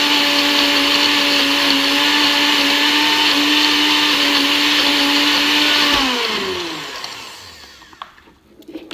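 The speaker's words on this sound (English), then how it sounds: "I just like to make sure that all the ice is crushed and that it is no chunks of ice" A countertop blender crushes ice for a Shakeology shake with a loud, steady whirring roar, then powers off and spins down to quiet, leaving a few small clinks at the end.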